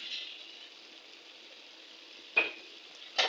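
Beans, eggplant and potato frying in a pan give a steady soft sizzle, joined by two sharp clinks of a utensil or lid near the end.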